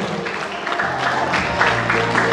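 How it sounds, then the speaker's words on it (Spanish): A crowd applauds at a school graduation party, with a dense patter of clapping that holds steady for a couple of seconds, fairly close and lively. "Y los aplausos, fuertes los aplausos."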